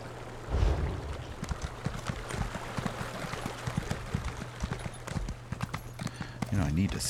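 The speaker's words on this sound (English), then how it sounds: "Get my horse." Horse hooves clip-clop steadily in Elder Scrolls Online, a regular galloping rhythm of soft thuds running under a constant low hum and some background game sounds.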